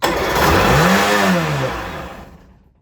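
Kawasaki JS550sx two-stroke jet ski engine catches and revs, the pitch rising then falling in a single buzzy surge before dying away into silence, loud and close.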